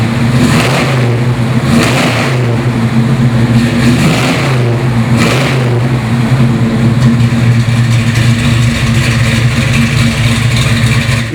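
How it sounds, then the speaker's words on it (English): A Chevrolet Nova Super Sport's engine runs loudly and close, holding a steady rumbling idle with a few revs early on, without any talking. "This car fires right up, man. Listen to it."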